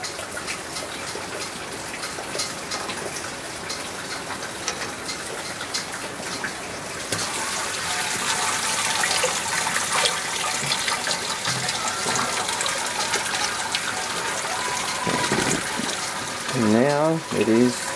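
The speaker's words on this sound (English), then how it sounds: "Now it is time to sparge. So sparging with 16 litres of water should get a total volume of around 28" Water gushes and splashes steadily as sparge water, about 16 litres, pours into the mash during a home brew day for a British golden ale, growing fuller and louder after the first few seconds, with brief voice-like tones near the end.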